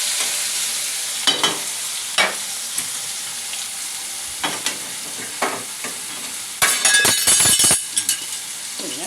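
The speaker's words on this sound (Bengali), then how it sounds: "তো আলুগুলো আগে দিয়ে দিলাম, আলুগুলো একটু ভাজা ভাজা হয়ে গেলে, একটু নরম হয়ে এলে তখন বেগুনটা দেবো।" Potatoes fry and sizzle in a pan with a steady crackle, while a spatula scrapes and clinks against the pan in several separate bursts, close and clear, with no talking.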